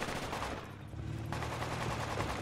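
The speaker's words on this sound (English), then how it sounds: "It was AK fire." AK rifle fire in a multiplayer video game crackles as continuous rapid automatic shots, fairly faint and distant, with no talking.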